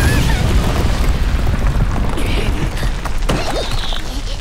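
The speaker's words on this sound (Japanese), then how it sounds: "なんだあれ、爆発したぞ。" A deep booming explosion from the Monster Hunter Stories 2 boss battle against Brachydios, loud and sustained with rumbling mechanical debris, followed by a faint high whistle.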